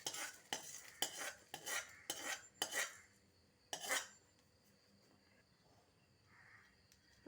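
Split moong lentils being stirred as they dry-roast in a pan, a run of scraping, rattling strokes of a spoon against the metal, then a quieter pause with faint background hum.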